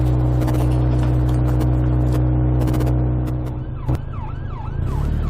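An ambulance siren wails in rising and falling sweeps, growing louder as it closes in from behind on a narrow road, over steady road and engine noise.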